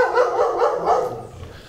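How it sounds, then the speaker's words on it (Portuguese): Several dogs bark in a rapid, overlapping run in a wooded residential area of Espírito Santo, Brazil, fairly close and loud, tapering off toward the end with no talk. "Muitos cachorros também."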